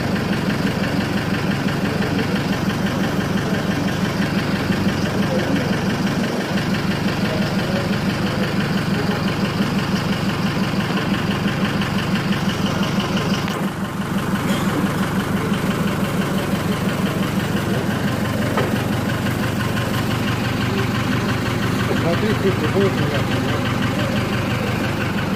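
A Mercedes truck engine idles with fluctuating revs, a loud, steady low rumble that lasts throughout with a brief dip partway. Voices talk over it.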